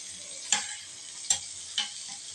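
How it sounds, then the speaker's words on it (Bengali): Butter melts in a kadai with a steady, fairly quiet sizzle and hiss, broken by three soft scraping stirs spaced under a second apart. "ভেজ স্যুপ করার জন্য প্রথমে কড়াইতে দিয়ে দিচ্ছি পরিমাণ মতন মাখন।"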